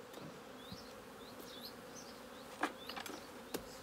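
Honey bees buzz around an open hive in an apiary, with a steady swarm drone and individual bees whining past nearby, plus a few sharp knocks of hive handling.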